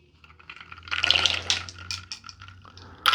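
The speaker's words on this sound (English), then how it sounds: "We're gonna add more water to this" Water poured in small splashes into flaky pastry dough in a kitchen bowl, a soft trickling and dribbling that swells briefly and trails off, fairly faint and close, with no talk.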